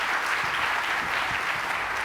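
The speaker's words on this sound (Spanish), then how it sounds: "Un aplauso para ellos, por favor." Audience applause after a round table discussion at a conference on European competitiveness, an even, continuous patter of many hands clapping, steady and moderately loud throughout.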